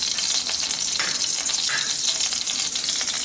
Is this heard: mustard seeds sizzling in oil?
yes